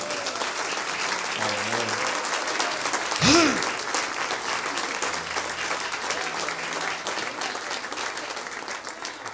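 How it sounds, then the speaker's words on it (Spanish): Church congregation applauding during a Sunday service, a steady wash of clapping throughout with a spoken word near the middle. "¿Cuánto le damos un aplauso a Él?"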